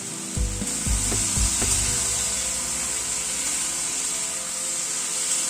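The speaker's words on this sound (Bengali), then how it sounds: "নুন হলুদ দিয়ে সবজিটাকে একটুখানি ভেজে নেব।" Vegetables sizzle steadily in a hot pan with salt and turmeric, a constant close frying hiss with a few utensil scrapes and knocks near the start.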